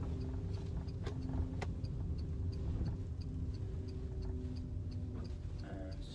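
Inside a car during a driving test route, the turn signal ticks at an even pace above a low engine rumble with road noise, and no one speaks.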